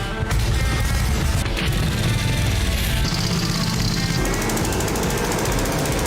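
A vintage motorcycle engine running after a kick start, a loud, continuous rough mechanical clatter and rumble close by with no pauses.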